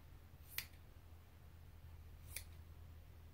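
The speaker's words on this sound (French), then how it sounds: "La colle et après je vais couper l'excédent." Two sharp, quiet snips of scissors trim excess material after gluing on a handmade snowman craft, spaced about two seconds apart over a faint background hum.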